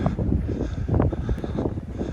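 Gusty wind buffets the microphone, uneven low rumbling bursts that rise and fall in quick succession.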